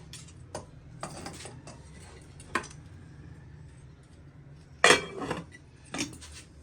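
Food is served onto a plate in a home kitchen: scattered clinks and scrapes of a spoon against dishes, with a sharper clatter near the end, over quiet background.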